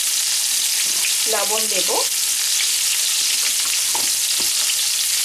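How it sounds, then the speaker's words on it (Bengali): Pointed gourd frying in oil in a home kitchen gives a steady hiss and crackle throughout, with someone speaking briefly near the start and faint utensil clinks later. "ওই তেলে দিয়ে দেব পটল"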